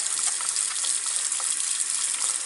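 Water runs steadily from a tap over hands being rinsed at a sink, a continuous close splashing hiss with no talking.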